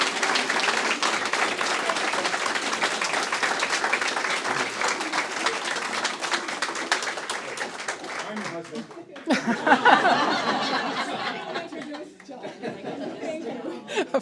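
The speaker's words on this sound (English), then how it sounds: "How about another round of applause for John Rotto and Beth Hoven Rotto?" Sustained applause from an audience at a gallery talk in a fiddle exhibit, a dense rolling patter with chatter and some laughter mixed in, thinning toward the end as voices take over.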